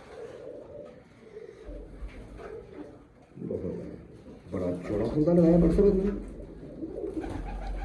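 Breeder pigeons in a loft coo in low throaty rolls, growing louder midway, while someone talks over them nearby.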